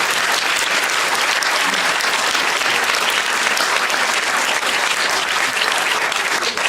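A theatre audience applauds the actors, with dense, steady clapping from many hands that fills the whole stretch at an even, loud level and does not stop.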